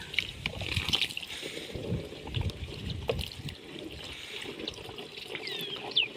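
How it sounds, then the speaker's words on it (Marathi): Water trickles and pours into a pesticide spray mix being prepared for a tomato plot on a farm, a close, soft splashing that fades toward the end. "थोडं आपण पाण्याची ॲड करूयात"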